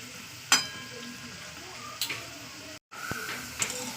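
Potatoes frying in a pan, a soft, even sizzle punctuated by a few sharp utensil clicks and a brief moment of silence.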